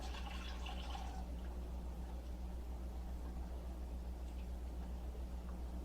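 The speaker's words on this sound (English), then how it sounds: "So that's 4 cups of water that just went in." Water poured into a pan for hamburger steak gravy: a faint, steady liquid splash that is strongest at the start and then settles into soft trickling over a low, constant hum, with no voices.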